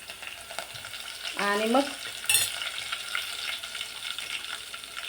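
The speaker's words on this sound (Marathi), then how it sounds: "छान असा लसूण तळून झाला की थोडीशी बारीक चिरलेली कोथिंबीर टाकायची यामध्ये" Garlic and finely chopped coriander frying in a pan, a steady soft sizzle throughout, with a brief spoken phrase in the middle and a short clatter shortly after.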